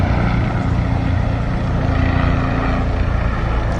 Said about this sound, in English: A lot of helicopters.